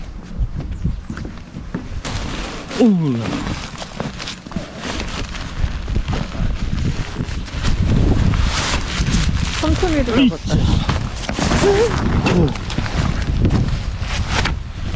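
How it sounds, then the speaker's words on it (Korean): Strong wind roars and buffets the microphone in a constant low rumble at a campsite near Ulsanbawi in Goseong, South Korea, while people talk intermittently beneath it outdoors. "작은 돌도 날릴 듯한 바람이 불던 곳"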